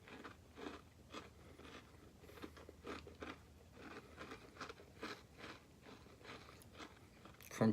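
Close, faint crunching of someone biting and chewing a Nature Valley cocoa almond butter oat biscuit: a steady series of dry, grainy crunches, with no talk.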